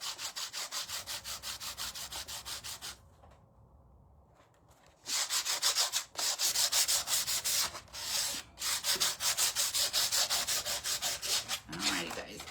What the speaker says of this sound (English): You guys can also come in with your sander and get a little bit more of a harsher sanding on this piece